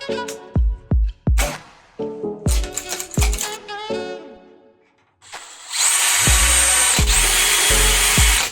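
A 3 mm aluminium flat bar being drilled: first some clattering knocks and metallic handling clinks, then a power drill spins up into a steady loud whine with heavy thumps underneath.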